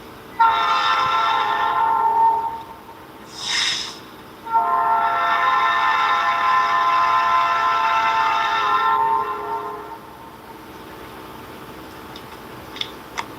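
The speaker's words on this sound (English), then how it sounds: "It would be South Carolina if there was not a train in the background." A train passes with its horn sounding in two long blasts separated by a short whistle-like burst, loud and steady over a faint rumble, then fading to quiet with a couple of soft clicks.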